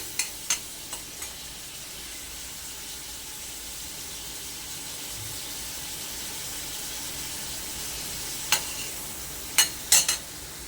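Prawns fry in oil in a pan for a spicy Konkani prawn masala, giving a steady, moderately loud sizzle throughout, with a few sharp spatters and clicks near the start and a cluster near the end.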